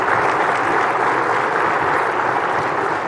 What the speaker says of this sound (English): let me just hear a round of applause for those folks